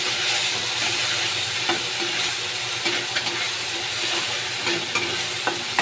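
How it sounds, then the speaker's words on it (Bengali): Ginger, garlic and green chili fry with softened tomato in a pan, a steady close sizzle broken by light scraping stirs at irregular moments, with no talking. "এবার আমি আদা রসুনটা দিয়ে দেবো, আর সাথে লঙ্কাটাও দিয়ে দেবো, দিয়ে হালকা একটু নেড়ে নেব।"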